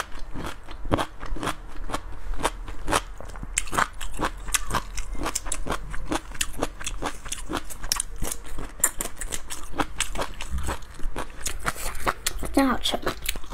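Spicy hand-peeled Chinese rice noodles are eaten close to the mic, with dense rhythmic crunchy bites, slurps and chewing that repeat steadily throughout and a soft voice briefly underneath.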